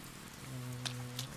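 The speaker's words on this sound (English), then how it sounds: "Yeah, it's raining." Steady rain patters on surfaces in the video game Persona 4 Golden, a soft continuous hiss with a low hum beneath and a couple of faint drip-like ticks, heard alone without voices.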